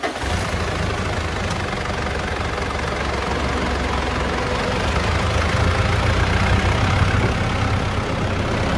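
A Mitsubishi Pajero with a 3.2 engine idles steadily, a dense, continuous low rumble with mechanical clatter, loud and close with no talk over it.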